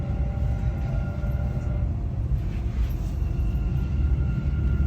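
A steady low rumble of a Dubai Metro train running, continuous and fairly loud, with a faint high whine riding over the rolling noise.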